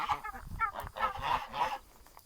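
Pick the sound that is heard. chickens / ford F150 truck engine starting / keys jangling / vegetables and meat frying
chickens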